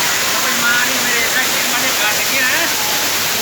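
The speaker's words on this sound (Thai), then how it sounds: "นี่นี่คือน้ำตกถ้ำโสดาอำเภอหนองพอก จังหวัดร้อยเอ็ดครับ" Steady, broadband rush of a waterfall dropping from a cliff at Tham Soda, Nong Phok, Roi Et, Thailand, dense and continuous, with faint voices murmuring underneath.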